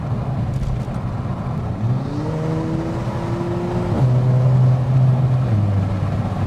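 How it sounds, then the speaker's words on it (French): Interior engine sound of a Volkswagen Polo GTI with a DSG gearbox, the motor pulling steadily with pitch rising between quick gear shifts, heard from inside the car with a constant road roar underneath. "ce passage de vitesse représentatif hein, de ces moteurs-là"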